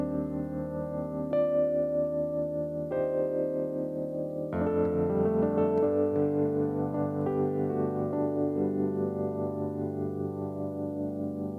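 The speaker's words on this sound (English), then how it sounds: "Which for me is just a very, very, very rich piano sound, electric piano sound." Waves Electric Grand 80 electric piano plugin played on a keyboard, sustained rich chords with a few changes and a fuller chord entering partway, warm and close, no talking.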